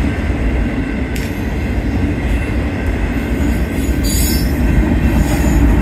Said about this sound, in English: the end of the train is actually coming up, and we have two locomotives at the end of the train